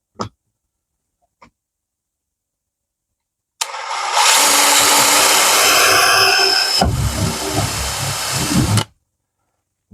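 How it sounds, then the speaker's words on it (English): A power drill fitted with a wide bit bores into material during window installation, a loud continuous whirring burst lasting about five seconds, its pitch shifting partway through, with a couple of faint knocks beforehand. "This drill bit is a little bit wide"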